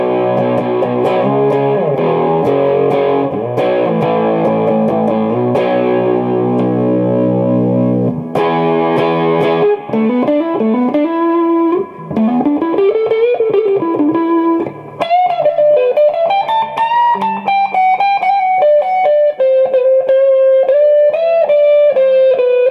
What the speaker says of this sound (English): let's kick on my overdrive on the clean